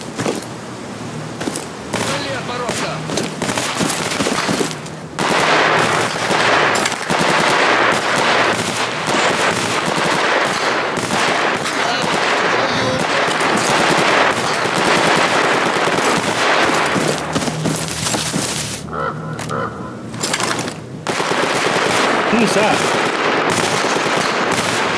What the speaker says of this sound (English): Shots coming from here, clear as day.